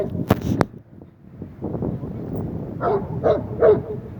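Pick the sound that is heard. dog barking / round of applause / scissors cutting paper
dog barking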